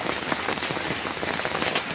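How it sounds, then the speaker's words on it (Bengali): Steady rain pours onto a surface around an outdoor cooking area, a dense continuous hiss of drops close by with no break. "সব জল, বৃষ্টির জল ছিটে ছিটে ঢুকে গিয়েছে"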